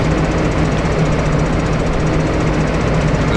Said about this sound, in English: And I just bought this tractor so we can go cultivate the field.